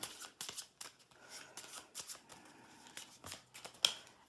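A deck of playing cards shuffled repeatedly up close, quick riffling bursts with short pauses between them, no voices.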